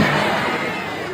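Crowd at a large Islamic preaching gathering in a pesantren courtyard bursts into applause, a dense, steady wash of clapping that fills the whole moment at close range.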